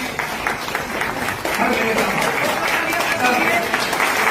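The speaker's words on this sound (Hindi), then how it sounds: "बहुत ही जोरदार तालियां" Loud, dense audience applause fills a corporate event hall for Ramaera Industrial and Planetway. The steady clapping runs throughout and swells after the first second and a half, with a voice heard over it.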